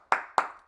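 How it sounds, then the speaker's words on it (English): A couple of sharp claps for a hockey result, two distinct hand claps about a quarter second apart with a faint third starting at the end, no talk. "Let's get some claps."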